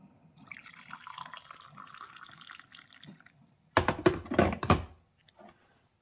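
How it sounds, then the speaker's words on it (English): Brewed coffee streams from a glass drip coffee maker pot into a white mug in a steady burst of pouring liquid, preceded by quieter clinks and handling of the pot. "So let's pour a cup of coffee."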